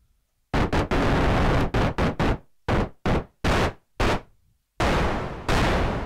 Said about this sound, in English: There's an explosion sound.